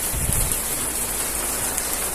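Steady rain patters loudly and continuously on the roof and panes of a greenhouse, a close, dense hiss with no voices.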